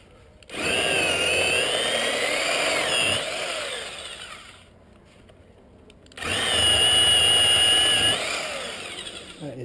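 A Black & Decker power tool whirs loudly while digging a drain hole for a downspout, running steadily in two long bursts with a short quieter pause between them.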